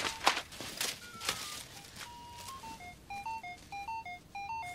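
A phone ringtone plays as a melodic electronic tune with a repeating pattern of bright notes, preceded by a few footsteps and knocks nearby.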